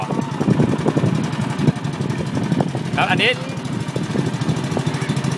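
A boat engine runs steadily as the riverboat circles back toward the pier at Sam Phan Bok in Ubon, a continuous close motor rumble under a man's speech, with a short higher tonal whine near the middle.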